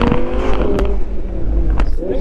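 An Audi R8 V10 with the standard exhaust growls and revs briefly from inside the car while someone talks over the engine.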